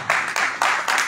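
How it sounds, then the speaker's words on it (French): Audience applause for a panel of guests at a live event, broad clapping noise in repeated surges of roughly a quarter second each, fairly loud and close, with no voices over it. "Qu'on applaudit très fort, s'il vous plaît."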